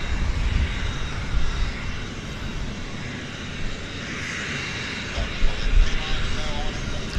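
A WestJet airliner at Vancouver Airport gives off a steady broadband engine roar throughout, swelling slightly near the end, with voices talking over it.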